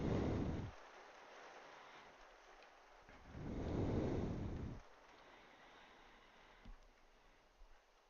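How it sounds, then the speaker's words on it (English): Video game rain comes in two swelling gusts of hissing downpour, each lasting a few seconds over a low steady background, with faint clicks near the end. "Oh man, the rain."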